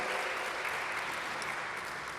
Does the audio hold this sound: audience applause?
yes